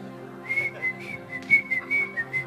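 A person whistles a wavering, high melodic tune in short phrases, close and fairly clear over a low steady hum.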